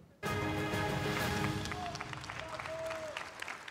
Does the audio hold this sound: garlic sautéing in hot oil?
no